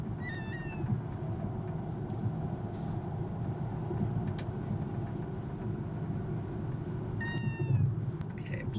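A cat meows in short bursts at the start and again near the end inside a car on a cross-country road trip, over a constant low road rumble.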